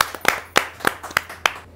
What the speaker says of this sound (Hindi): आप जोरदार तालियों से उनका स्वागत करें।